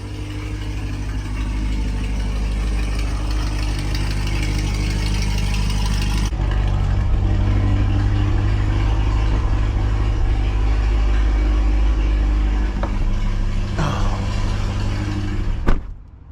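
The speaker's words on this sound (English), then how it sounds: "This car is super loud with just the stock Z51 catback and catless mid pipes." A C8 Corvette with stock Z51 catback exhaust and catless mid pipes rumbles loudly and steadily at idle up close, with a slight change in tone midway and a brief clunk near the end.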